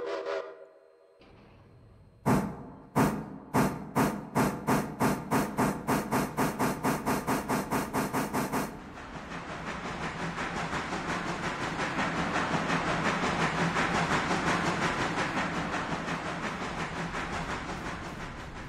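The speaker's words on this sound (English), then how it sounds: "We'll push the train so we can do this faster." Railroader video game train being pushed through a yard: a loud steam locomotive chuffs in a rapid, accelerating run of sharp exhaust beats, then blends into a steady roaring hiss of steam and rolling cars, with no talking.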